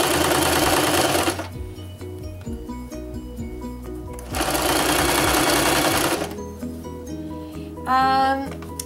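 A sewing machine zigzag stitches over a rolled edge of an Ikea fabric swatch on a cushion cover, with two loud running bursts separated by quieter pauses, then a brief whir near the end, with some talking between.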